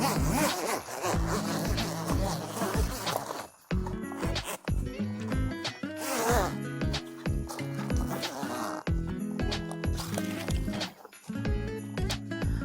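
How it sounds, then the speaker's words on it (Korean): A zipper is pulled along the zip line of a modular camping tarp panel in a series of short rasping runs separated by brief pauses, close and distinct. "여기서부터 한번 지퍼를 설치를 해 보도록 하죠"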